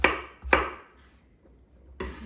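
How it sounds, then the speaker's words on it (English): A kitchen knife rough chops vegetables with the skin left on, giving a few sharp, close thuds on a cutting board with brief gaps between strokes. "I'm just rough chopping, so I'm kind of moving through it kind of quickly"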